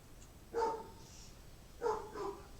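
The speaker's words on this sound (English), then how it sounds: "of course the dogs start barking as soon as I go live" Dogs bark indoors in two short bursts, each a pair of yaps, heard at moderate distance in an otherwise quiet room.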